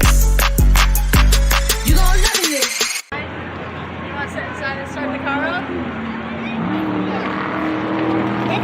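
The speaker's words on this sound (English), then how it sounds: "You want to sit inside and start the car up?" A car engine cranks and catches after a few sharp clicks, then settles into a steady idle beneath people talking nearby.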